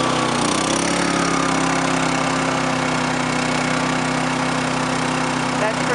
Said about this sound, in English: Now I'm gonna try with the load to see the difference of sound.